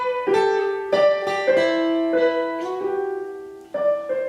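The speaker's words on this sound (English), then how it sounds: "What would happen is if we both played those melodies at the same time, it would sound like this." Two melodies played at once on sustained tonal instruments, overlapping notes clashing as several pitches change together in a series of distinct note onsets over about four seconds.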